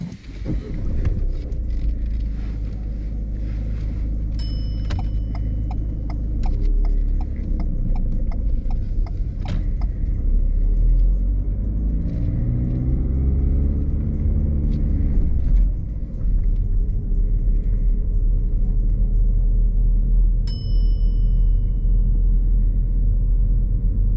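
A car on a mock driving test pulls away and drives along a road, giving a loud, steady low engine rumble with tyre and road noise heard from inside the cabin and a few clicks and knocks. No one speaks.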